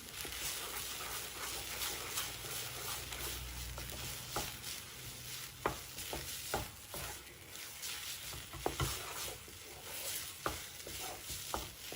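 Poha kesari, a sweet of flattened rice, being stirred in a pan after yellow food colour goes in, giving a steady soft scraping and gentle sizzle with a few sharper spoon clicks, close and alone without talk.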